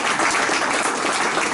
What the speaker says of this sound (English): Richard, applause to him, and the show floor is yours.